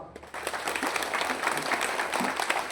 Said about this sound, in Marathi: सगळ्यांनी एकदा जोरात टाळ्या वाजवा